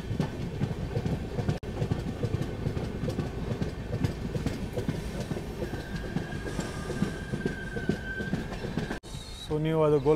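A sleeper coach of the Golgumbaz Express from Mysore to Pandharpur rolls along with a constant heavy rumble and rattling wheel clatter. Two sharp knocks break it, and a thin squeal rises near the end.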